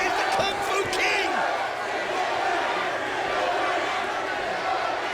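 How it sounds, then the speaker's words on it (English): A wrestling crowd at the Asylum roars and cheers in a continuous loud, dense swell, with scattered shouts and whoops rising out of it and a commentator's voice underneath. "The crowd at the Asylum certainly appreciates the efforts of these 4 competitors"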